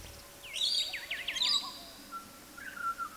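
Australian ringneck parrots give a quick series of sharp, high chirping calls in short bursts, followed by a thinner whistled note, fairly close against a quiet outdoor background.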